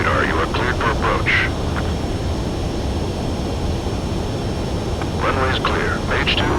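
Aircraft engine droning steadily on landing approach in Ace Combat 7, a loud continuous roar with radio voices talking over it at the start and end.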